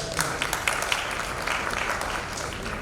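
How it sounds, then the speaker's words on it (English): A conference audience at a lactation management and milk banking medical event applauds with a dense, steady wash of clapping and scattered sharper claps throughout. "a big round of applause"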